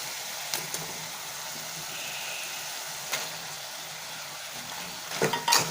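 Mashed eggplant is stirred into sautéed onion, tomato and curry leaves in a pan for Tamil kathrikkai gotsu, with a soft continuous sizzle, scraping stirs and a few clatters of the spoon near the end.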